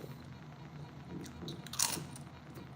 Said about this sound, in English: Y'all hear that crunch?